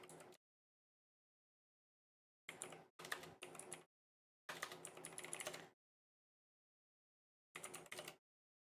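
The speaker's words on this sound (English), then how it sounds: "I was typing Park King." Bursts of typing on a computer keyboard, in four short clusters of rapid key clicks separated by silent pauses, close and fairly quiet.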